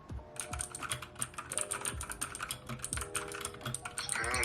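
Steady typing on a non-clicky computer keyboard, close and soft, with a dense stream of muted keystrokes and no talking.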